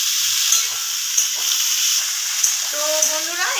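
Vegetables frying in a pan while being stirred, a continuous bright sizzle punctuated by a few spatula scrapes, with a voice speaking briefly near the end.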